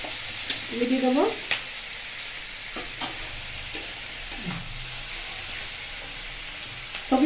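Vegetables for a vegetarian navratan korma fry slowly in a pan with a soft, continuous sizzle, broken by a few utensil taps and brief clatters.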